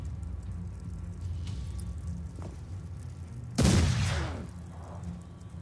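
A single ranged shot goes off in the Mordheim video game, one loud sharp blast with a short rumbling tail, standing out against a steady low game background.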